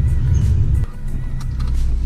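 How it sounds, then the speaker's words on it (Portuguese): Audi RS Q3 accelerating and braking: a loud, close low engine roar that cuts off sharply partway through, then gives way to quieter road and mechanical noise with a few clicks. "acelera e freia absurdamente"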